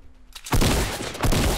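A burst of loud Fortnite gunfire erupts after a quiet start, sustained sharp cracks with a second surge near the end, like rapid shots in a game.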